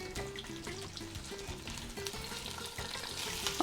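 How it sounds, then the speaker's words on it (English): Beef browning in a hot pan over medium-high heat, a steady close sizzle and crackle that goes on without a break, with no one talking. "what we want is to brown both sides of the meat"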